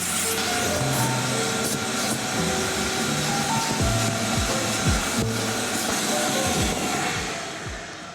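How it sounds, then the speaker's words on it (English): A shop vac runs steadily and loudly throughout, a continuous roaring whine of suction that holds level before tapering off near the end, with no talk over it. "I just went through here with the shop vac"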